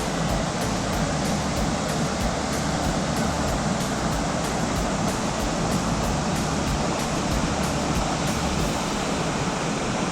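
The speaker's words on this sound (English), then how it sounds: "So that's the waterfall." A New Zealand waterfall pours in a steady, loud, broadband roar, a constant rushing wash of falling water heard close with no voices.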